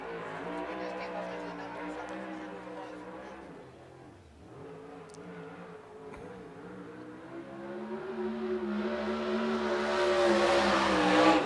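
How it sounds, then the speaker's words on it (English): A USAC Southwest race car laps Central Arizona Speedway during qualifying, its droning engine note sagging briefly mid-lap, then climbing and growing louder as it revs toward the end. "As now the 28M car of Matt McCarty is out there."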